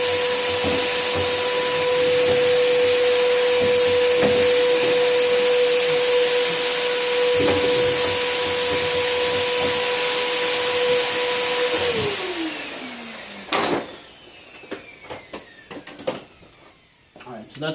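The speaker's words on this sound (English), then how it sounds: "Let me do a quick vacuum up top here" A vacuum cleaner drones steadily on top of an arcade cabinet during a restoration, running loud for about twelve seconds before winding down, followed by scattered knocks and handling noises.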